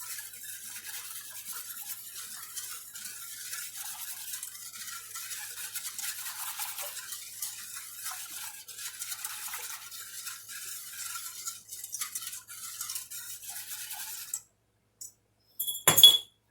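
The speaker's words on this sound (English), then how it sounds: "I'm going to go ahead and get that one whisked up really well." A whisk scrapes steadily around a bowl of peanut butter cup pie filling, a continuous faint scratchy swishing for about fourteen seconds, then stopping, followed by a few light clinks.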